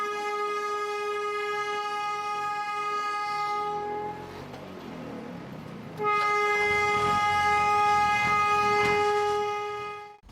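A narrow gauge train on the Kangra Valley Railway sounds a long, steady multi-tone horn, breaks off for a couple of seconds of rumbling, then blasts again for several seconds before cutting out, loud and close.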